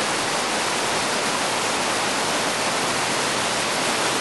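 Loud, steady roar of fast-moving floodwater surging through a desert wash during a flash flood, with a big standing wave, constant broadband rush that fills the whole stretch with no pauses.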